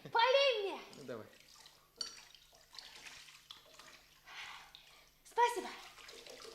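Water splashes and pours over hands as someone washes their face in the morning, with bursts of splashing at the start and end and people talking in between.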